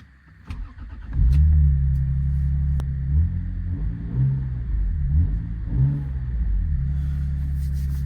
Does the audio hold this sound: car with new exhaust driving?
yes